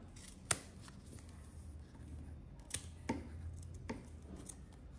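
Scissors snipping the side edge of fabric beside a zipper finish in a sewing project, a few sharp, quiet cuts spaced apart against a low room hum.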